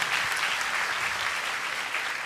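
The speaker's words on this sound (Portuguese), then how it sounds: "Let's clap for these guys first." A church congregation claps for people who completed a forty-day fast, a continuous, even roar of many hands at moderate level from start to finish.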